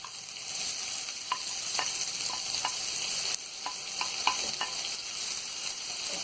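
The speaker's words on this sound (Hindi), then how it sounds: "इसके बाद हम ये कटी हुई प्याज डाल देंगे।" Chopped onions sizzle in a pan of hot oil for rava upma, a steady, moderate frying hiss broken by occasional clicks and scrapes of stirring, heard up close with no talk.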